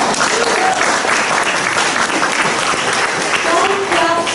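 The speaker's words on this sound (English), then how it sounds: "Don't clap so loud." Dense, steady applause from a sizable audience at a community association meeting fills the whole stretch, with a few voices calling out over the clapping.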